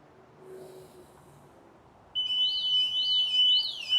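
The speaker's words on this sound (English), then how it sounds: "That was enough just to disrupt it to set the alarm off." A Hovara P501 pool alarm suddenly starts partway through after water is disturbed, a loud warbling, sweeping siren tone that keeps rising and falling steadily after a quiet start.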